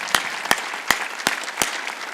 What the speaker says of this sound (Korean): 박수로 하나님께 박수 치라고